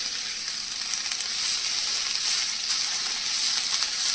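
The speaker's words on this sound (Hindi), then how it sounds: "और बस इसको स्टर फ्राई कर लेते हैं" Mixed vegetables including beans and carrots being stir-fried with salt for a jalfrezi, a steady loud sizzle that continues unbroken with no talking.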